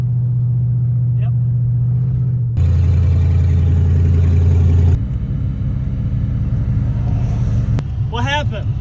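A truck engine runs with open headers and a gas leak, a loud steady rumbling idle that shifts in tone partway through, close by, with voices talking over it.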